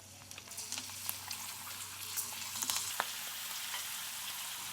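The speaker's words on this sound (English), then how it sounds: "I'm frying some papad" Steady crackling sizzle of papad frying in hot oil, continuous and fairly close, with a few sharper pops and no talking.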